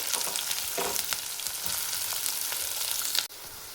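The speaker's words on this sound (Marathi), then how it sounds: "कांदे टाकले, कांदा भाजलेला आहे।" Onions crackle and sizzle in hot oil with cumin and garlic, a dense close frying hiss with light stirring scrapes, which softens abruptly near the end.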